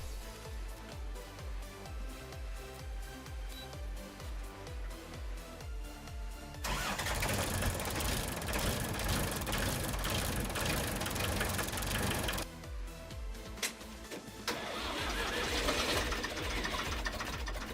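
A Universal 45 tractor diesel cranks rhythmically for several seconds on a BlitzWolf jump starter, then catches and runs with a loud, rough, steady roar, dipping briefly before carrying on, with no speech.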